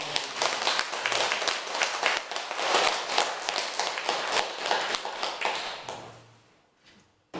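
Church congregation applauding the choir, crisp hand claps from a roomful of people filling the space before tapering off and fading near the end.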